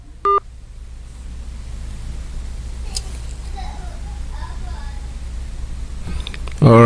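A broken-up phone line on a live radio call-in broadcast gives a short electronic beep, a stretch of hiss and a loud dial tone at the end, with faint speech in the background.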